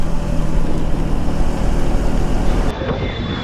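Trucks passing on a rain-soaked road during a heavy monsoon downpour, a loud continuous roar of tyre spray and traffic rumble washing over the whole stretch, with a brief drop near the end.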